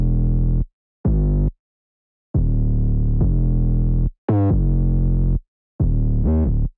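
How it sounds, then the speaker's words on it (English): Gliding 808 bass line from a UK drill beat in the Bandokay style, playing alone as loud, distorted sustained notes with pitch slides, separated by short gaps. "I was happy with how the 808 bass line was sounding"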